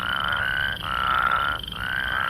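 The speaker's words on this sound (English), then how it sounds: "Our two toad sounds, the whir," A plains spadefoot toad gives its whirring call, loud and close, in two long buzzy pulses separated by a short gap, with no voices.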